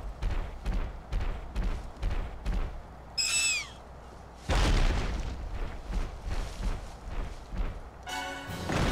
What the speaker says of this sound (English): Who would be there but the giant bird?